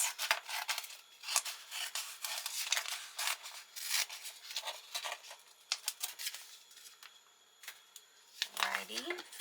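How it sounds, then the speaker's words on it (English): Scissors snip through transfer tape at a craft table, a run of short crisp cuts and rustles close by, with a brief soft vocal murmur near the end. "I'm going to go ahead and cut this."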